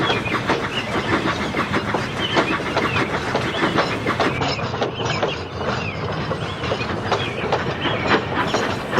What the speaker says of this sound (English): The fireman drove the train to the next station.